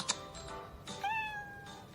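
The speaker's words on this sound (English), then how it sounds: "Oh, it was a cat." A cat meows once, a clear, rising then falling cry, preceded by a few faint clicks and soft tapping in a quiet room.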